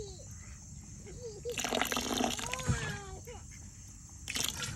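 Apple cider vinegar pours into a container of fermenting homestead animal feed, a close liquid trickle and splash lasting a couple of seconds, then a brief second splash, with a voice talking faintly at the start.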